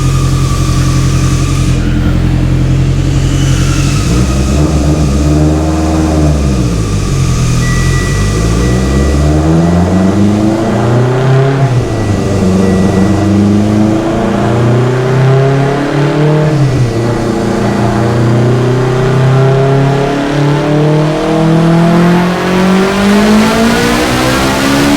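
A Mitsubishi Evo X with a Garrett G42-1200c sidewinder turbo roars on a dyno, its engine loud and continuous as the revs sweep up and down repeatedly, with no voices over it.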